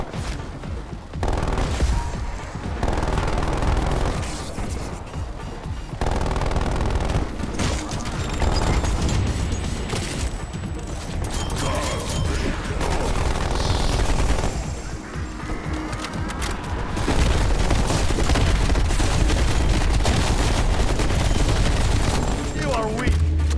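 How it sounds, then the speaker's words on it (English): Rapid automatic bursts from a sentry turret in Call of Duty: Black Ops Cold War, dense sustained gunfire with booms layered throughout, loud and continuous, with a voice speaking in places. "Sentry turret ready to fire."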